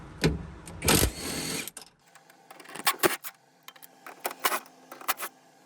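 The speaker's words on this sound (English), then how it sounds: "you can just pull all four of these bolts out" Metal seat bracket bolts being removed with a 10 mm wrench in a 2005-2014 S197 Mustang during a rear seat delete, giving a loud rustle followed by sharp clicks, clinks and ratcheting taps at close range with no talking.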